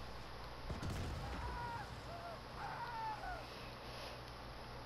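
An explosion goes off in the video game Saints Row, a short heavy burst near the start followed by a lower rumble, while other game sounds keep going underneath and no one speaks.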